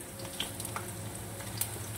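Okra pakoras fry in oil over low heat, giving a soft, quiet, steady sizzle with faint crackles and no talking.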